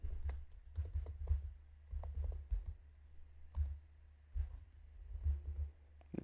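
Quiet keyboard typing while entering code, with short bursts of key clicks separated by brief pauses, fairly close and soft, with no one talking.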